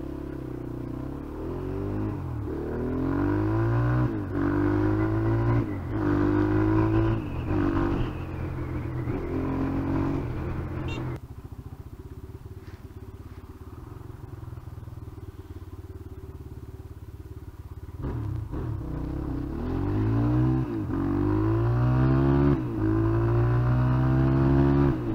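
A new Rockot Firestorm enduro motorcycle ridden around a neighborhood. The engine revs up and down loud and close, settles into a steadier drone for several seconds, then winds up through repeated throttle sweeps.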